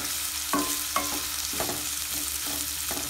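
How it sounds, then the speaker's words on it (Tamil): Close, steady sizzle of onions frying in oil with salt, broken by a few distinct scrapes of a spoon stirring them around the pan. "சால்ட் ஆட் பண்ணி நல்லா ஃப்ரை பண்ணி விடுங்க"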